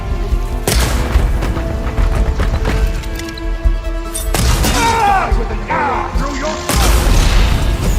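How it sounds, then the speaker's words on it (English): A huge explosion in Horizon Forbidden West: Burning Shores, with heavy booming blasts and crashing debris in a loud, dense game battle, interrupted by a short stretch of a voice shouting. "Now that's an explosion!"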